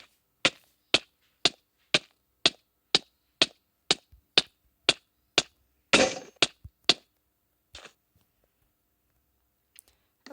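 Armor being struck and broken in a video game: a rapid, even series of sharp cracking hits, about a dozen in a row, then a louder shattering burst and a few final knocks before silence.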